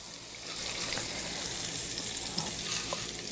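A po' boy coated in flour and cornmeal bubbles in a deep fryer, giving a steady crackling sizzle that swells after a quieter start and continues close and even throughout, with no talking.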